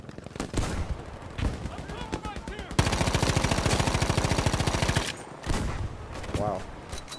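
Rapid automatic gunfire in Battlefield V, with short bursts followed by a long sustained stream of shots, then more scattered bursts, loud and close with a player's voice talking in between.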